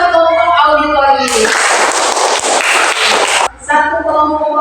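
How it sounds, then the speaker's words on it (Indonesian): A group of schoolchildren in a classroom claps together in a burst of applause lasting about two seconds, framed by a teacher speaking before and after. "tepuk tangan buat kelompok auditori"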